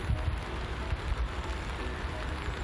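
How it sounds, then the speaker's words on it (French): Steady rain falls in a dense, even hiss with scattered drops tapping on surfaces, continuous and fairly close, with no speech over it. "Il pleut."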